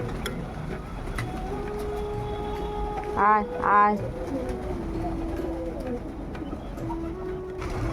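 Pigeons coo softly in the background while a person calls them down to feed twice in a sing-song voice.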